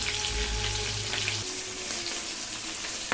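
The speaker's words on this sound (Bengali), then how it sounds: "তেল দিয়ে আগে মাছের মাথাগুলোকে ভেজে নিচ্ছি।" Fish heads frying in hot oil: a continuous close crackling sizzle with bright spits and pops, plus a low hum in the background during the first part, and no talking.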